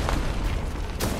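A rocket explodes in a shooter game, a brief heavy rumbling boom at moderate loudness, swelling again with a sharp burst near the end.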